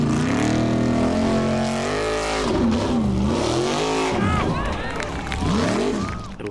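Formula Offroad race cars at an Icelandic off-road event, engines revving and roaring loudly up and down while on track, heavily mixed with music and voices throughout.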